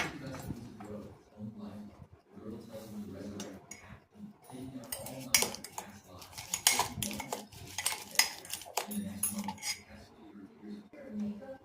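A spoon beats ripe banana with sugar in a bowl, making quick rhythmic metallic clinks and taps that grow busier midway, while a voice talks over them.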